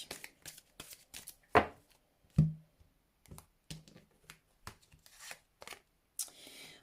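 Oracle cards shuffled by hand, close and crisp, with irregular riffling snaps and flicks, a couple of sharper slaps, and brief pauses between bursts.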